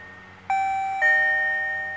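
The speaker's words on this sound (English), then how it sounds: "he ring the doorbell" A two-tone ding-dong chime from a Tuya smart Wi-Fi door lock with a cat-eye camera, sounding once, clear and close with a sustained ringing tail, with no talk.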